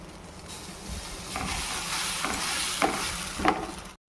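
Onion dosa batter spreading on a hot griddle, a soft steady sizzle and hiss with faint scraping strokes near the end, close and fairly quiet, no talk.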